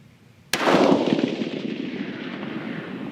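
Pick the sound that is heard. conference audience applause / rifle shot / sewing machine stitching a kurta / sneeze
rifle shot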